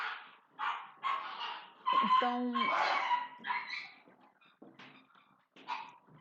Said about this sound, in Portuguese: só um minutinho que eu acho que os meus cachorros estão brigando.